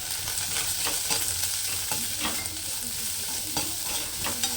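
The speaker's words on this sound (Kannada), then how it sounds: "ಸೊಪ್ಪು ಕಾಳು ಬೇಯಿಸ್ಕೊಂಡಿದ್ದಲ್ಲ ಅದನ್ನು ಒಗ್ಗರಣೆ ಹಾಕ್ತಾ ಇದ್ದೀನಿ." Cooked greens and lentils are stirred in a hot pan as they are tempered, with a steady sizzle and repeated scrapes and clinks of a spoon against the metal.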